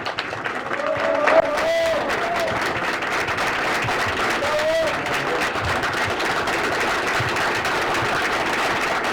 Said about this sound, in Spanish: Un aplauso fuerte al camarada